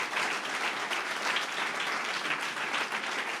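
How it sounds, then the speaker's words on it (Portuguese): A church congregation applauds during an Easter sermon, continuous even clapping at moderate loudness with no voices over it. "Eu acho que nesta altura já merecia um aplauso para Jesus."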